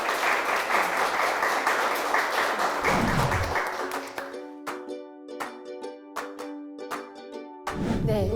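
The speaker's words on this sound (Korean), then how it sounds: "큰 박수 한 번 더 부탁드리겠습니다" Audience applause at a company recruitment briefing for Dong-A Intec, a dense burst of clapping that fills the room for several seconds, then thins to scattered claps while a musical tone sustains underneath.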